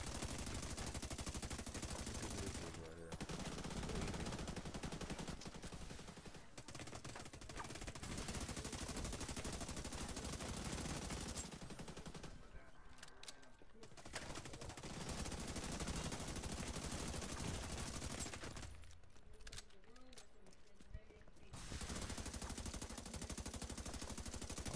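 Double-barrel shotgun fire in a video game blasts in a dense, sustained barrage of loud shots, broken by a few short pauses.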